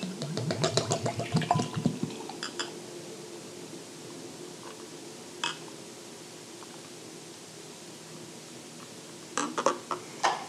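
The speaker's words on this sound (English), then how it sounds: "Go ahead and try to get a nice good pour in this." OJ IPA beer is poured into a glass, beginning with a short burst of clinking and splashing before settling into a soft, steady fizzing wash, with a few light knocks near the end.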